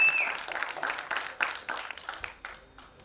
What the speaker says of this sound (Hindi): योगराज सिंह साहब के लिए जोरदार तालियां